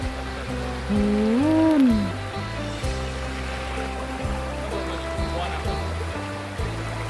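Water flows steadily at a Thai cave temple in Khemarat district, Ubon Ratchathani, giving a continuous broad rushing wash. A voice rises briefly above it near the start, with faint tonal sounds underneath.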